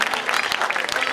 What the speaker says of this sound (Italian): Benissimo, un applauso al nostro Francesco.